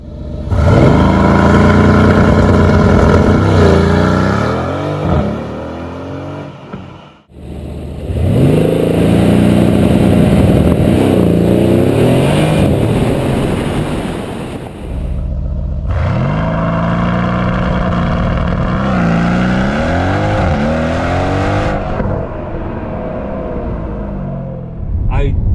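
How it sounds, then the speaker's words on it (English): Car launching hard from inside, engine revving up through several gears with rising whines and brief shift breaks, loud and close, with a voice talking over parts of it. "This car launches so hard right now at where it sits"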